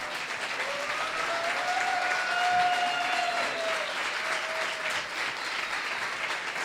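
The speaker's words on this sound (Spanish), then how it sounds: "¡Un aplauso!" Steady applause rises from an audience at a talk, sustained and fairly close, with a thin whistling tone gliding above the clapping partway through.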